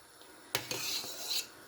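Strawberry jam being stirred in a pot on the stove, with a spoon clinking and scraping against the pot in a few sharp knocks followed by a brief stretch of rubbing and stirring, close and moderately loud.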